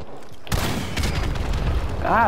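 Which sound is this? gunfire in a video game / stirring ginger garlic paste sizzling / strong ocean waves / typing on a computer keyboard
gunfire in a video game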